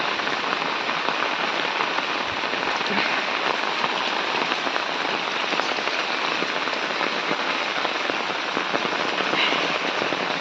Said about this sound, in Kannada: ಸಖತ್ತಾಗಿ ಮಳೆ ಬರ್ತಾ ಇದೆ ನೋಡಿ